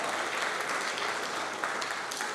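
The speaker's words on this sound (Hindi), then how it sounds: "जरा तालियां हो जाए।" A crowd at a school alumni meet applauds steadily, a dense, even wash of many hands clapping together without a break, fairly loud and sustained throughout.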